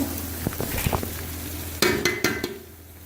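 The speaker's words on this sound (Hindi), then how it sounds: "ये अब हमारे टमाटर अच्छे से फ्राई हो गए हैं" Tomatoes with spices and tamarind water fry for Hyderabadi chicken biryani, a steady loud sizzle broken by scraping stirs and clattering pan knocks, with sharper metallic strikes in the second half.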